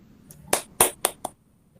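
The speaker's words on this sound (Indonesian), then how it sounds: "Tepuk tangan untuk kelompok 1." A few scattered hand claps in a classroom acknowledge a student group: four or five sharp, separate claps in quick succession, close and fairly loud, then quiet.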